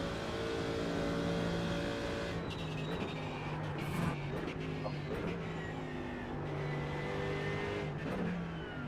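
A Mercedes GT3 race car in a racing video game at the Nordschleife revs hard throughout, its engine note climbing and dropping through gear changes as it accelerates, loud and steady with no talk.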